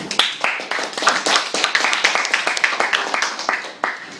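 A school debate audience applauds the teams with close, crisp clapping from a modest group, loud and continuous before tapering off at the end.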